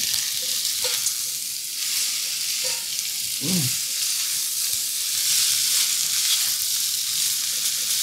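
Beef sizzles in a hot pan for pepper steak, a steady bright frying hiss with occasional stirring scrapes and one brief low clunk partway through.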